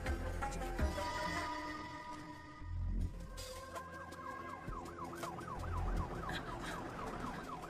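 An ambulance siren wails in a rising and falling pattern, starting faint and growing clearer over passing traffic, with no voices.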